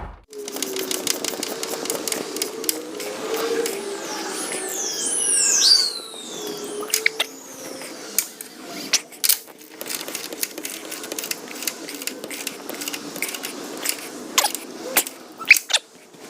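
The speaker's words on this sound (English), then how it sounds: "Let's just get these all torqued down." Torque wrench tightening chassis brace bolts on a 2015-20 Mustang, a run of rapid ratcheting clicks and metallic taps, close up, with a few squeaky tool scrapes.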